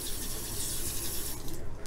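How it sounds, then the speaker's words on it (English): Hot water running from a tap to fill a container, a steady close rushing and splashing stream that thins out toward the end. "water that I have running in here. I'm going to fill it up"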